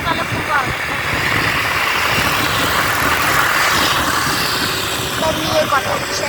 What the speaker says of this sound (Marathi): स्कूटीचा आवाज आहे आमच्या